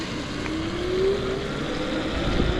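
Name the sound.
car passing on the road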